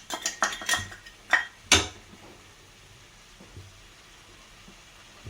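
A metal spoon scraping and clinking against a cooking pot while stirring in ground masala and chilli powder, several sharp knocks close together in the first two seconds, then quiet stirring and faint scrapes.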